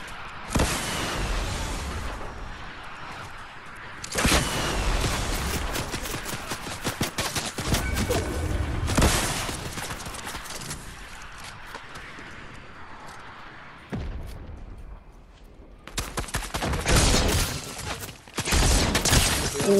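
Bursts of rapid automatic gunfire from a Fortnite match, loud and dense in several long volleys separated by quieter in-game ambience, with single shots and clattering impacts between them.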